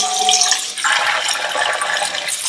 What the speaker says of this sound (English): Rinse out your bowl.